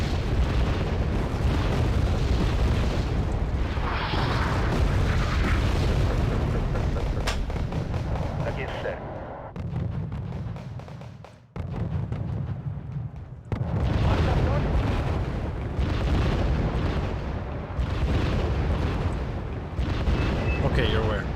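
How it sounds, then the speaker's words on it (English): Wargame: Red Dragon artillery shells and explosions thunder almost nonstop as loud, rolling blasts and sharp cracks, dropping briefly to quieter stretches before the barrage swells again, with people talking over it. "the half-hearted artillery"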